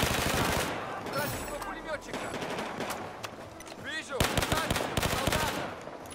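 Rapid bursts of machine gun fire in the video game Battlefield 4, loud and close, sputtering in repeated volleys across the whole stretch, with a voice speaking under the shooting.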